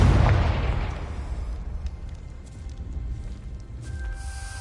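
A Confringo spell in Hogwarts Legacy detonates with a heavy, booming blast that hits hard at the outset, then rumbles and crackles away over several seconds as debris settles, no voices over it.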